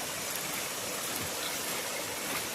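A waterfall-fed stream pours across a road in Koraput, Odisha, making a steady, dense rush of flowing water that stays close and unbroken throughout.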